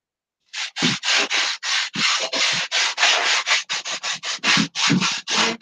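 A sanding block rubs back and forth across wood in steady, close strokes, each one a dry rasping swish, repeated rhythmically with no talking.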